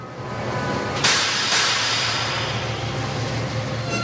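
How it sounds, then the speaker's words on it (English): A loud, steady rumble of a diesel locomotive with a sharp hissing burst of air brakes near the start, the noise holding on afterward. "Whereas Mavis's brakes sound like this."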